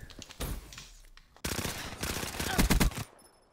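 Rapid machine-gun bursts ring out in a video game, beginning with a scattered opening volley and followed by longer, denser rattling fire, loud and close. A voice is briefly audible underneath.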